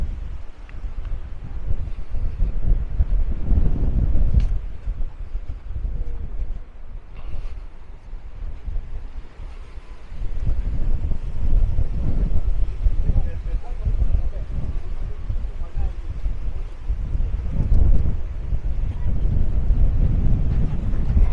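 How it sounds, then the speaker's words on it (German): Strong gusty wind buffets the microphone in rough, roaring waves on a terrace in Maspalomas, Gran Canaria, during a sandstorm, with a voice speaking underneath. "hier auf der Terrasse, da pfeift es schon ein bisschen, da ist schon ein bisschen mehr Wind."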